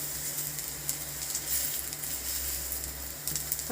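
Beetroot cutlets frying slowly in a pan on a stove, a steady close sizzle with scattered sharper pops and crackles over a low background hum, no speech.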